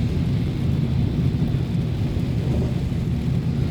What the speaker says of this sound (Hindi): आज पूरे मक्का मुकरमा में बारिश हो रही है।